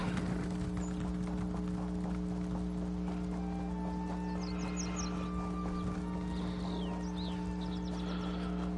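Horse hooves clip-clopping in steady rhythm in the Elder Scrolls Online game, loud and close over a constant low hum, with occasional neighs and whinnies and a few chirping ambient sounds.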